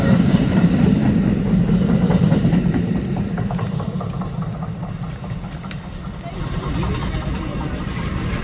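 An Amtrak train with Phase 7 Viewliner cars rolls past close by, a loud steady rumble with rhythmic clatter of wheels over rail joints, while someone speaks over it.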